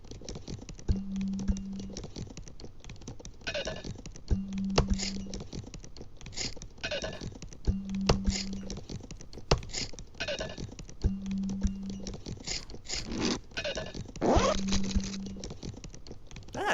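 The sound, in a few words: sounds made with objects from a bag: laptop, drink bottle, pencil case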